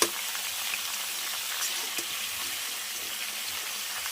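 Moringa drumstick pieces fry in a pan for a Bhojpuri-style sabzi, giving a steady, moderately quiet sizzle with faint scraping, alone with no talk.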